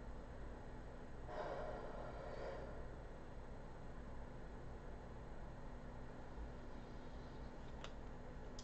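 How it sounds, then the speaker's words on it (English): One soft, close breath pushed out as an exhale, a brief airy hiss over a quiet room's background hum. "let me just take an exhale out here"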